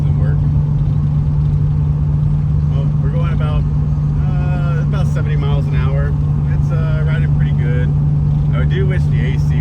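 A Toyota Supra with a check engine light on cruising at about 70 mph, a steady loud low drone of engine and road noise inside the cabin while people talk over it.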